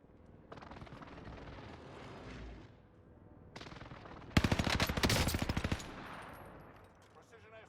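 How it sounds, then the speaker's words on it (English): A Call of Duty battle with bursts of machine-gun fire and booming airstrike explosions, loud and close, rising to a dense crackling barrage before fading. "Airstrike target designated. This is Phoenix 3. Strike inbound."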